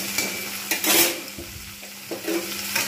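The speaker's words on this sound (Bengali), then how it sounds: "এবার আমি এর মধ্যে উচ্ছেগুলো ভালোভাবে ভেজে নেব, এতেই ভেজে নেব।" Bitter gourd pieces frying in hot oil with panch phoron: a continuous close sizzle, broken by a few louder stirring scrapes and pan knocks.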